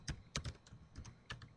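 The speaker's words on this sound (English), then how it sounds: "I'm just going to type in some info here." Faint computer keyboard typing as information is entered into a form: a short, uneven run of light key taps, close but very soft, with no speech.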